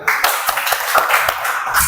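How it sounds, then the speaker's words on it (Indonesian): Students in a classroom clap for a group that has just demonstrated how to use protective equipment, a short run of evenly spaced claps close to the microphone. "Oke, berikan tepuk tangan untuk kelompok 3."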